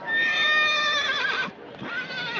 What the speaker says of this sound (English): Listen, he's giving you the horse laugh now.